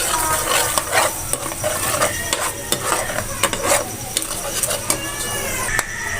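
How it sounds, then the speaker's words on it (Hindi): Tomato ketchup and garlic sauce, thickened with cornflour, is stirred in a pan over low heat, with repeated close scraping and clinking of a spoon against the pan and a soft sizzle, while someone talks throughout. "हल्की आंच में आपने ये सॉस बनाना है।"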